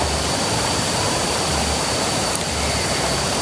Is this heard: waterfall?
yes